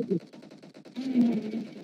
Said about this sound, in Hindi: अरे कौन गोली चला रहा है